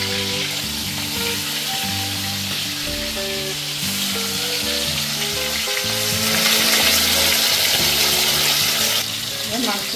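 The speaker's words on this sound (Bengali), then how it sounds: "তেল আর ঘিটা ইতিমধ্যে গরম হয়ে গেছে, আমি এবার একে একে মাংসগুলো এর মধ্যে ঢেলে দেবো।" Chicken pieces frying in hot oil and ghee give a loud, steady sizzle that crackles continuously, while stirring and clattering sound beneath it and a faint melodic tone runs in the background.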